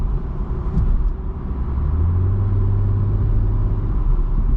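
A 2024 BMW M340i xDrive accelerates to highway speed, heard from inside the cabin as a steady low engine rumble and road roar with a rising drone, no talk.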